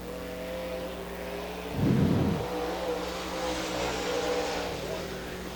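Steel Head/525 late model race car engine on a qualifying lap at Dixie Speedway, a droning engine with a short, louder roar as it passes, heard under a track announcer's voice.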